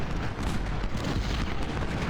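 Massed infantry musket volleys in the Civil War strategy game Ultimate General: Gettysburg form a dense, continuous crackling roar with low rumble underneath, steady and loud for about two seconds without any talk.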